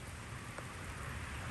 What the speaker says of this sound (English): It's raining, so I'm not going to show anything else apart from the finds now.